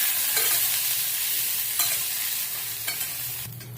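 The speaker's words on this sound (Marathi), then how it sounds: "आता आपण गवारीमध्ये थोडं तेल टाकून परत ती परतून घेऊया" Cluster beans being sautéed in oil in a village-style preparation, with steady scraping and stirring over a continuous close sizzle and a few sharper clinks along the way.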